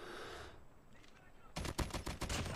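A sharp, loud burst of rapid automatic gunfire from Call of Duty Mobile, arriving after a quieter stretch, with game effects and faint voice around it.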